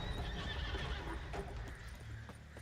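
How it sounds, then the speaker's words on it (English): A horse in The Witcher 3: Blood and Wine gallops up with clip-clopping hooves and lets out a loud whinny, close and clear over game background sound. "Oh god, a horse just came running."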